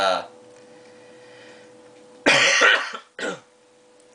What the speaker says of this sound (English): Just got a cough.